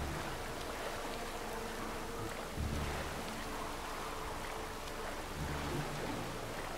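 Thunderstorm rain in The Witcher 3, a steady hiss of rainfall and rushing water near the boat, continuous and moderately loud, with brief low rumbles rising twice underneath.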